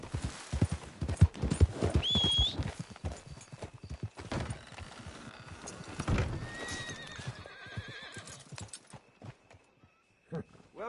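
A horse in the Red Dead Redemption 2 video game whinnies loudly over busy clip-clopping hooves, with a second fainter neigh later as the hoofbeats slow and thin out.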